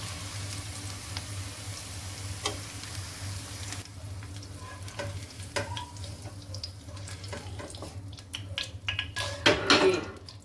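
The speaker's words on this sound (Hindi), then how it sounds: "इनको मैं एक डिश में निकाल लेती हूँ।" Fried okra lifted out of a pan of hot oil into a dish, soft sizzling under scraping and clinking of a utensil against metal, growing busier and louder toward the end.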